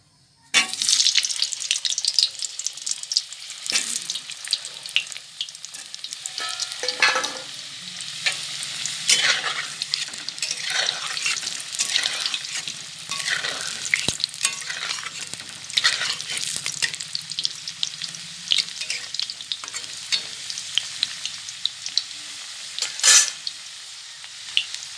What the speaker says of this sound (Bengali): এবারে আলুগুলো দিয়ে ভেজে নেব